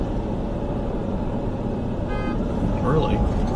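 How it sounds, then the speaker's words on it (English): A brief car horn toot sounds amid steady roadway traffic noise, heard from inside a vehicle during a storm chase in Arkansas, with people talking throughout. "They're honking at them, not you."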